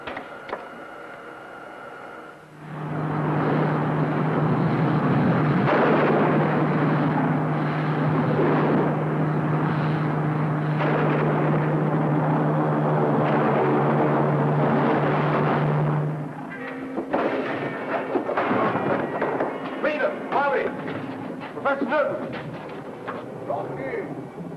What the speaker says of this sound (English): Full rocket power, Winky. All rockets,